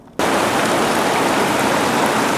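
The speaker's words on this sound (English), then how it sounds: "Just crossed this creek here." Loud, steady broadband rush of a creek flowing out of a big lake near Snow Tongue Pass, starting abruptly and continuing close and unbroken, with no voices.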